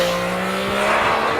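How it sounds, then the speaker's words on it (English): A 2014 Yamaha FZ-09 with an inline engine, its exhaust droning loud and steady up close, a continuous high-revving tone with no pauses and no voices. "you top all that off with what is undeniably an awesome exhaust sound"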